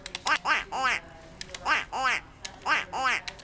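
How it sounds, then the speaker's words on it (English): The Duck Quack car horn in the Forza Horizon racing game sounds off in repeated groups of two or three nasal, duck-like quacks, close and clear, with faint clicking underneath. "we got the Duck Quack Car Horn."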